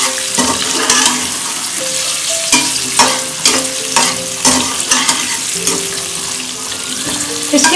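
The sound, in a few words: frying drumsticks in oil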